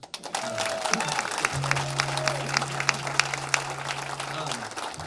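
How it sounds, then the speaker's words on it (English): Audience clapping fills the space steadily at a concert in New Albany, Indiana, with a voice speaking over it near the start and a sustained low tone underneath. "so you all should clap for her"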